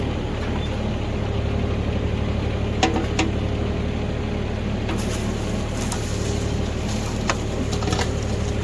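A New Holland 757C backhoe engine idles steadily while digging in a tight area, giving a constant low drone, with a few sharp clicks and knocks from the bucket scattered through it.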